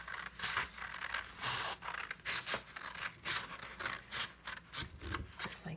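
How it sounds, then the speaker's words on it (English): Scissors cut paper for a platypus puppet craft, a close series of rhythmic crisp snips and scratchy rustles repeating steadily with no talking. "I'm going to cut it with my scissors."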